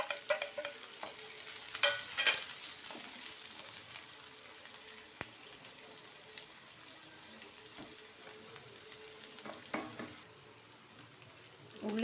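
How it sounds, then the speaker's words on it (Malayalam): Three large onions with ginger sautéing in oil in a pan for a paneer butter kurma, a steady sizzle broken by repeated scraping stirs, close and fairly quiet, with no talking. "ഉള്ളി നന്നായിട്ട് വഴന്നിട്ടുണ്ട്"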